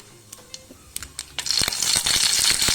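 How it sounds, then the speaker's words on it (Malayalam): Mustard seeds drop into a pan for okra curry, first as a few scattered ticks, then building into a dense crackling patter and sizzle, close and without talk. "അതിലേക്ക് ആദ്യം കുറച്ച് കടുകിട്ട് കൊടുക്കുക"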